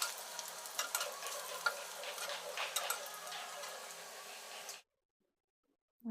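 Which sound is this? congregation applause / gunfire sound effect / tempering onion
tempering onion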